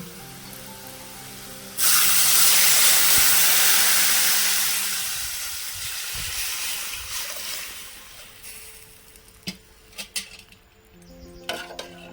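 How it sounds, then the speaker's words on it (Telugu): Tomato rasam poured into a hot tempering of cumin, curry leaves and asafoetida bursts into a loud, close sizzle that slowly fades, followed by a few clinks of a spoon against the pot. "టమాటా రసం దీంట్లో పోసేద్దామండి"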